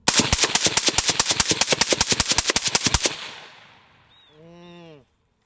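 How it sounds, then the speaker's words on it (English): Rapid burst of AR-15 rifle gunfire, about two dozen sharp loud shots in quick succession over three seconds, then a fading echo and a brief ringing tail, with no talk. "I have not shot this thing yet, so let's do that"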